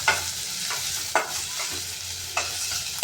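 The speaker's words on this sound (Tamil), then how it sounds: "வெங்காயம் நல்லா வதங்கட்டும்." Onions sauté in a hot pan, a continuous hissing sizzle punctuated by three distinct scrapes of a spoon stirring, near and without speech.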